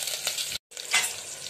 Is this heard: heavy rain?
no